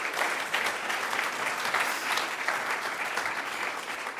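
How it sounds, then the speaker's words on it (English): Conference audience in Linz applauding at the opening of a scientific innovation conference, dense continuous clapping from many hands throughout, even and sustained at moderate level with no talk. "You may applaud just to warm up a little bit."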